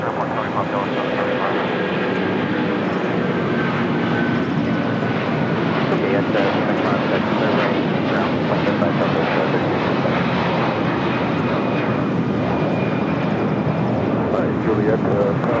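Airliner in Star Alliance livery rolling down runway 25R at LAX, its engine roar steady and loud throughout, with a faint tonal whine and talk underneath.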